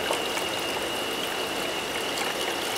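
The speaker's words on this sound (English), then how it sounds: "continue pouring water" Water pours steadily into a hydrostatic pressure apparatus, a continuous close trickling stream with no pauses.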